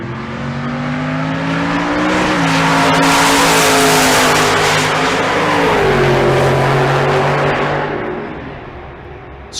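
At a drag race, an '84 Mustang and a 2007 Chevy Silverado launch down the strip, engines roaring loud with rising and shifting tones and a touch of tire squeal, then fading as they pull away.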